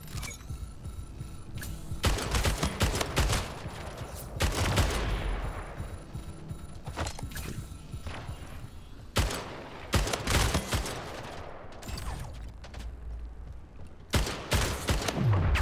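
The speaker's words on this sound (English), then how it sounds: "I don't like the assault rifle. It doesn't have the stopping power I like." Rapid bursts of assault rifle fire in the arena shooter Splitgate, loud and close, repeating in clustered volleys with short pauses between them against a steady game hum.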